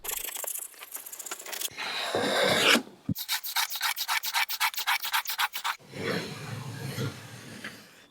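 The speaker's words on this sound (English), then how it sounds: "do a little bit of sanding" Wood being sanded by hand with quick, rhythmic back-and-forth rubbing strokes close up, with a scraping pass and pauses between bursts.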